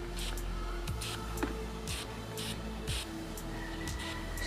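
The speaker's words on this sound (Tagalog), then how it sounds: "Spray mo lang dito." Short bursts of odor-remover spray hiss into the inside of a motorcycle helmet, about eight quick spritzes in an uneven rhythm, close and moderately loud over a low steady hum.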